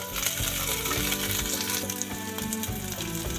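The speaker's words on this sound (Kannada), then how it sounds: "ಬೆಳ್ಳುಳ್ಳಿ, ಈರುಳ್ಳಿ ಫ್ರೈ ಮಾಡೋಕ್ಕಾಗ್ತಾ ಇದ್ದೀನಿ." Garlic, onion and green chillies fry loudly in hot oil in a pan, a dense, continuous crackling sizzle heard up close throughout, with no voices over it.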